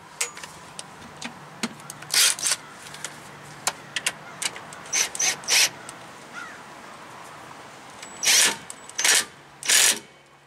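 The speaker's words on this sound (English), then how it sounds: "Bottom one, we can spin that one in with the impact." An impact wrench on a 2004 Chevy 2500 Crew Cab truck fires in short buzzing bursts as it spins a bolt in, several loud rattling pulses among quieter clicks and handling noises.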